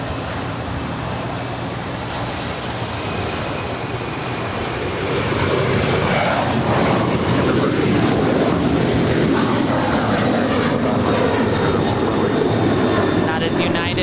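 A Boeing 737-900ER airliner at LAX, eight years old and bound for Washington Dulles, gives off a broad jet roar that swells partway through and stays loud, with a voice talking over it.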